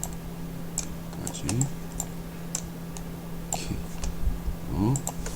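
Scattered computer keyboard keystrokes and clicks while working in After Effects, sparse and moderately close, with a voice speaking in between the taps.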